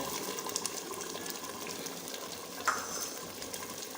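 Yogurt poured into a pan of beef paya, the frying mixture hissing and sizzling steadily up close, with a small splashy stir midway and no talk.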